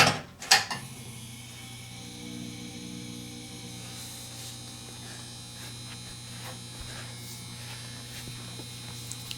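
A 1960s General Electric M400 400-watt mercury vapor streetlight hums with a steady electrical buzz, close and constant, following a couple of sharp mechanical clunks at the start.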